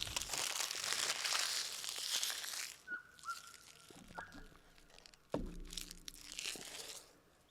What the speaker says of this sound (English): We'll rip open another box.